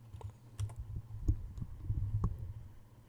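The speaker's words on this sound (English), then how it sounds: "I'm going to type in DeWalt" Soft key presses on a computer keyboard tap out a short, uneven burst of typing, faint and close over a low background hum.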